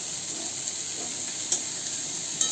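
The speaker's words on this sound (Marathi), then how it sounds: "छान परतून घ्यायची भेंडी" Cut okra sautéing over medium heat in a pan, a steady soft sizzle with faint stirring scrapes and a couple of brief clinks, no voices.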